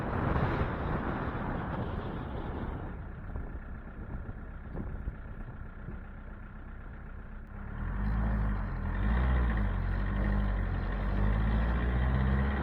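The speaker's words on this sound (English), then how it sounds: "let's head out of town so we can see how the trailer affects the truck at greater speeds" A 54 hp 1.6L VW diesel engine in a Chevy S-10 pickup pulls a trailer on the road, its engine drone and road rumble steady at first, then swelling louder and heavier after several seconds as the truck speeds up.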